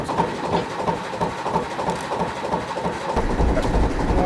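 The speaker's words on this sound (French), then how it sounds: "On va juste faire un petit tour au moteur" Inboard motor of Le Manchot, a lateen-sail boat at Toulon, running steadily with a loud continuous drone and rumble and a slight swell in the low end toward the end.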